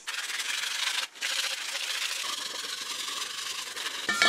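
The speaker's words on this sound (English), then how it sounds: "so I just need to sand the outside of that" Aluminium pipe from a racing yacht's broken mast is sanded on the outside to prepare it for epoxy, a continuous close rough rubbing hiss with one brief pause, heard alone.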